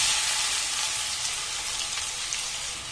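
Finely chopped onions and bay leaves sauté in hot oil for channa masala, giving a close, steady sizzling hiss that eases slightly as it goes on.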